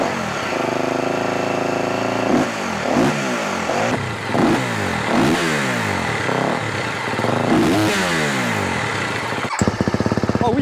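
A motorcycle fitted with a full Akrapovic exhaust system revs up and down repeatedly, loud and close, with a sharp crackle and pop near the end.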